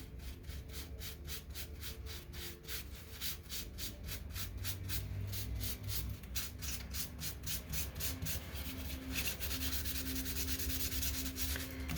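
Oil pastel being smeared and rubbed on paper, a close, steady rhythmic scratching of repeated quick strokes that speeds up and grows denser toward the end, with no talking.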